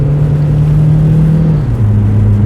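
A 2010 Ford Kuga 2.0 TDCi automatic accelerating, its diesel engine drone loud and steady from the cabin, rising in pitch before a brief dip as the gearbox shifts, then carrying on.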